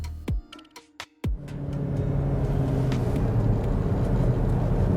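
A Cupra Formentor VZ 310 PS on the move: a few brief thumps open the clip, then a steady, loud engine and road rumble holds without a break to the end.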